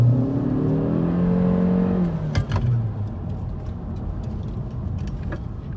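A 2018 Honda Civic Hatchback accelerates with a rising engine note climbing through a couple of pitches, then fades into steady road and wind noise.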